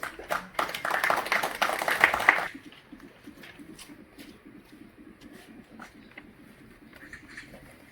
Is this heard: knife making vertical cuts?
no